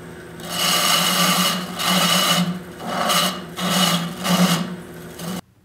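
Rhythmic rasping scrapes of a parting tool cutting a wooden goblet on a spinning lathe, several strokes in a row over a steady motor hum, close by.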